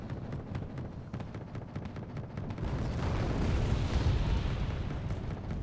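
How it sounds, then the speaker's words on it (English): Paladin self-propelled artillery firing across the map in the video game Wargame Red Dragon, heard as a steady rumble of distant booms and bursts that swells louder partway through, with no talk. "Very nice artillery pieces. Just firing across map with extreme prejudice."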